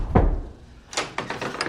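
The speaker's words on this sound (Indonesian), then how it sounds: "Tak lama kemudian pintu apartemen diketok-ketok." Knocking on an apartment door in a film scene: one heavy thud, a pause, then a quick cluster of sharp, close knocks.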